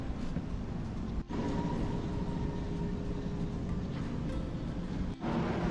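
Inside a moving Manila MRT carriage, a steady low rumble and rolling hum from the rail car fills the clip, with two brief clunks from the track joints.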